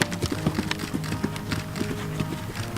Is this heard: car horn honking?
no